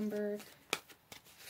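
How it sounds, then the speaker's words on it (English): Tarot cards are handled as one card is pulled from the deck. A few quick, crisp paper flicks and snaps come close up, right after a brief spoken phrase. "So let's pull one more card here."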